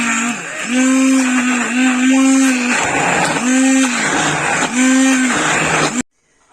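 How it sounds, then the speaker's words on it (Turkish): A loud blender whirs in repeated bursts, its motor pitch dipping and surging as it pounds a thick mixture of cooked wheat and chicken for keşkek, then cuts off abruptly. "Blenderımızı çalıştırmaya başlıyoruz."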